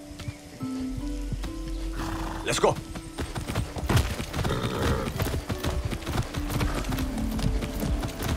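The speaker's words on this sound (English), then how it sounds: "Riding a horse since basic training." Horse hooves clip-clop steadily at close range while a horse is ridden in Far Cry 6, with one loud whinny early on, rain-like background texture, and someone speaking briefly over the hoofbeats.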